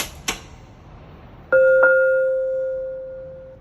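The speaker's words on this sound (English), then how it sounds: "See if we can ring the bell." A soft click, then a clear two-note electronic elevator chime from a ThyssenKrupp ISIS machine-room-less traction elevator rings out close by, its second tone lingering and slowly fading.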